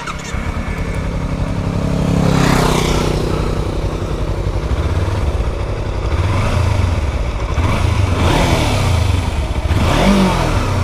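A Kawasaki Versys x300 motorcycle engine revs loudly and continuously in first gear, rising and falling close by on a bike with a new chain and sprockets, with a rattly clatter underneath.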